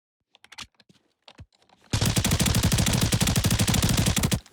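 A burst of rapid automatic gunfire from a new weapon in Arena Breakout Infinite starts abruptly after a few quiet clicks, then rattles on steadily at a fast, even rate before cutting off.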